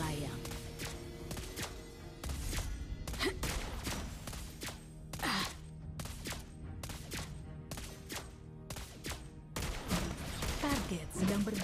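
Sniper shots from the hero Lesley in a mobile battle game, sharp repeated bursts spaced across the clip over steady game music and effects, with a voice speaking at times.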